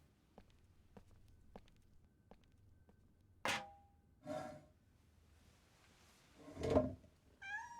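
Faint clicks and scattered taps lead into a few brief cat meows and soft thuds, with a short, higher mew closing it, all quiet and somewhat distant.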